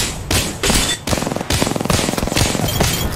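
Rapid automatic gunfire in the battle royale game Apex Legends, loud close bursts in quick rhythmic volleys with brief pauses between strings of shots.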